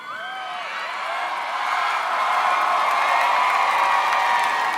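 An MTV VMAs audience cheers and applauds as NSYNC members come onstage, with whoops and scattered shouts rising into a building roar of clapping and crowd noise over several seconds.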